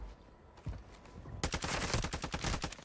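Warzone 2 gunfire on Ashika Island: scattered single shots at first, then a dense, loud stretch of rapid automatic fire and overlapping bursts.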